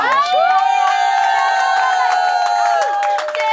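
A crowd at a birthday party in Pointe-Noire cheers and ululates loudly, with high, wavering voices holding long celebratory calls over a busy, continuous background of shouting.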